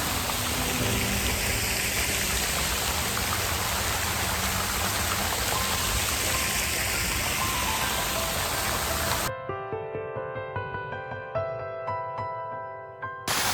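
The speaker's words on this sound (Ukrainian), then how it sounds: "ці фонтани дуже гарно прикрашають наш центр міста" Water fountains in a city centre splash in a steady, loud broadband rush near a small bridge, then cut abruptly to quieter ambience with faint tonal sounds for the last few seconds.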